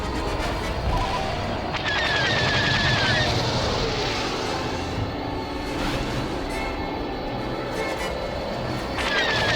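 Spacecraft flying in Star Wars Battlefront 2 (2005), a steady loud roar of engines with whooshing passes and laser-like zaps throughout, with brief in-game voices.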